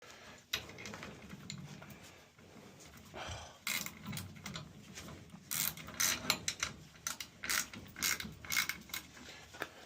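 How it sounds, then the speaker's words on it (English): Ratchet clicking as bolts are evenly tightened on a boiler circulator pump flange, rapid close bursts of ratcheting separated by brief pauses, with light handling noise and no talking. "Evenly tighten up the bolts on the circulator flange."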